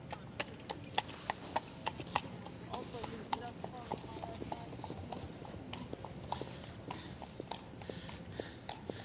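Horses' hooves clip-clop along a path in Central Park, New York, in a steady irregular stream of sharp clops nearby, with outdoor crowd murmur and some talking underneath.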